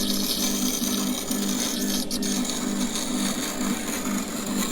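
A sharpening machine on its coarse setting grinds a small chisel, giving a loud, steady, continuous abrasive whir with a constant hum underneath and no speech.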